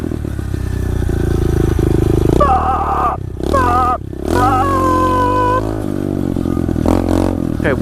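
An SSR 125 pit bike revs loudly and close by during backyard riding, its engine climbing and falling in pitch through several throttle bursts, with brief drops between revs.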